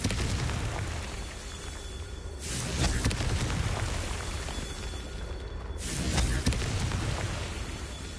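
Confringo blasting spell explosions in the Hogwarts Legacy video game, two loud booming blasts a few seconds apart rising out of a dense, rumbling background of magical combat noise.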